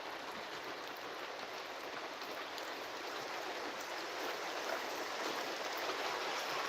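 Heavy rain falls steadily, a dense, even hiss of water that holds at a constant level throughout, with no voices and no breaks.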